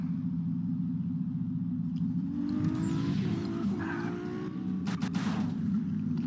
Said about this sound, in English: let's drive around a little bit